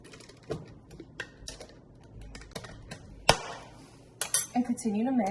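A utensil mixes seasoning and white sugar in a bowl, sparse clinking and tapping strokes with a sharper knock midway, close and quiet, followed by a brief faint tonal sound at the end.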